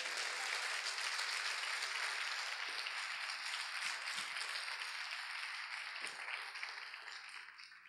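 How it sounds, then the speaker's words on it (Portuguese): A church congregation at an apostolic retreat in Curitiba, 2006, breaks into sustained applause, a dense wash of many clapping hands that holds steady and tapers slightly toward the end. "Podemos aplaudir ao Senhor Jesus?"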